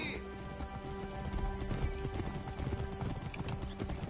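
A horse gallops in a race in the video game Assassin's Creed Origins, its hooves beating a rapid, steady clip-clop under sustained musical tones throughout.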